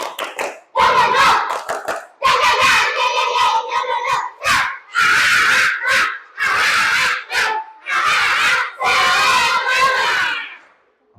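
Children in a classroom perform a loud 'tepuk semangat' clapping chant, with sharp rhythmic claps in repeated bursts and energetic group shouting between short pauses.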